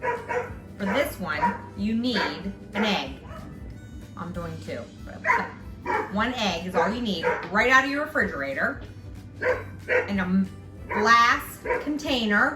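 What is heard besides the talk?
dogs barking outside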